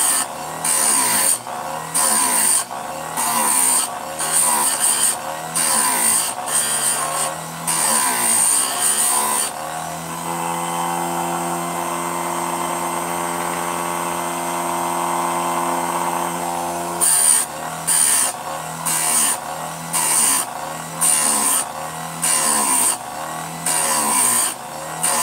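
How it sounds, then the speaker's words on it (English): A saw chain is ground from square to round profile for milling, with short whining grinder bursts in a repeated rhythm, a longer continuous grind in the middle, then more quick passes, all loud and close. "I'm converting this chain from regular square ground to round ground, but also 10 degree instead of 30 degree for milling."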